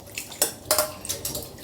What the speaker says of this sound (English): Rinse 2 packs of cleaned octopus.